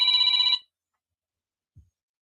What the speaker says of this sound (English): So everybody stop talking for the banana phone.